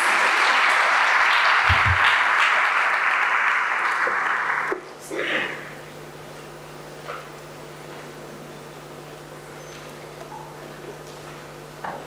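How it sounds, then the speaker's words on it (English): Audience applause rings out for about four seconds at an event featuring former President Thabo Mbeki, then cuts off abruptly, leaving quiet room noise and faint movement. "Can we give her a round of applause?"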